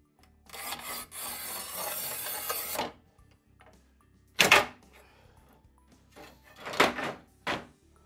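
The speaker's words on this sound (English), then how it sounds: "Now I'm cutting this with a 4-inch, which is a 100mm angle grinder" A battery-powered 100mm angle grinder fitted with a diamond blade cuts through floor tile in one sustained, gritty close-up pass, then stops; several shorter cuts follow after a pause.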